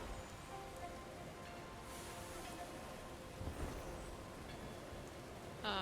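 Steady, soft rain falls in the game Sky, a continuous hiss of drops with faint rustling and a brief low rumble partway through.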